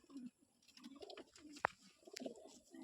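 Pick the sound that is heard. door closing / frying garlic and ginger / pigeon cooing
pigeon cooing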